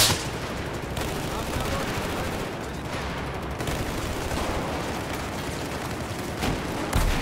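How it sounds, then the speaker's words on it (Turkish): An RPG rocket is fired during a Battlefield 4 match on the Metro map. Continuous loud battle noise with gunfire and blasts fills the scene, and bursts spike at the start and near the end. "Oha roket RPG attı herif ya."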